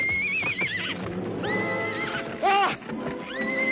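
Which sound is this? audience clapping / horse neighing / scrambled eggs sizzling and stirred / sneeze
horse neighing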